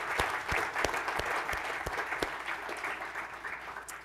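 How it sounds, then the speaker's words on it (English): An audience in a hall applauds the event staff with steady, sustained clapping that holds at an even level throughout, with no talking over it. "If we applaud them, they won't hear us because they're still working outside. But let's do it anyway"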